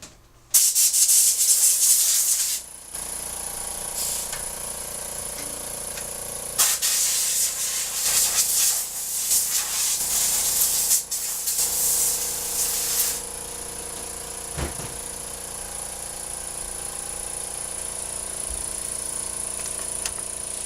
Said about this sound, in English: We're going to blow this out real quick, get all the dust out of there and out of here